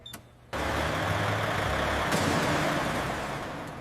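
A monster truck's engine starts up after a brief quiet moment, then holds a loud, steady, broadband roar that stays constant to the end.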